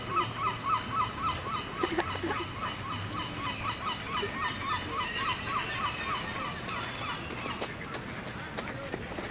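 Ducks and geese honk at a pond in a steady run of nasal calls, loud and close at first and then easing back into a busier background of birds and outdoor ambience, with faint voices in the distance.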